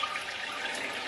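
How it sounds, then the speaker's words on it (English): Water trickles and drips steadily from a wet mop hung up after rinsing, a faint continuous patter and splash with no talking. "I hang it up, I let it drip"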